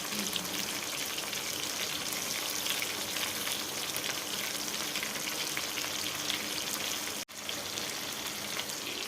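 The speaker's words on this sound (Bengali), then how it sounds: "বন্ধুরা মাছটা ভাজা হতে থাকুক" Chata fish frying in a pan, a steady close sizzle and spatter of hot oil that runs throughout with one brief cut near the end, no talking.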